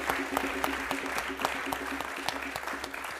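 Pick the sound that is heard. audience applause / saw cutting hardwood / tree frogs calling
audience applause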